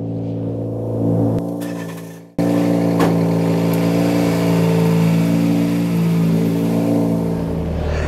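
A vehicle towing a Fiat 500 on an A-frame pulls away, its engine a steady, loud mid-range drone that dips briefly, then revs up again and holds a sustained hum.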